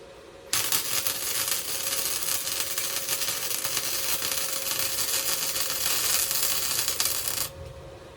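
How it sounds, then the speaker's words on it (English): MIG wire-feed welder laying a bead, a steady loud crackling buzz that starts abruptly, holds for about seven seconds and then cuts off, with no talking. "Go ahead and give it another weld though."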